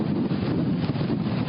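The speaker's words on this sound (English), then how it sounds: "whoa, there goes another big gust." Strong gusts of hurricane wind buffet a microphone on the beach at Satellite Beach, Florida, during Hurricane Matthew, a loud, continuous roar with a heavy low rumble and no voices.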